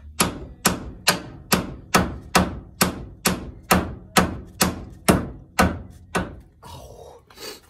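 A hammer strikes the ball joint on the suspension of a 1966 Plymouth Barracuda, landing about a dozen sharp, evenly spaced metallic thunks in a steady rhythm, close to the microphone.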